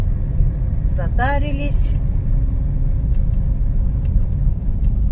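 A car rumbles steadily along a road on the drive home after a stop at a Magnit shop, its low engine and road noise running through the whole stretch while a person speaks briefly.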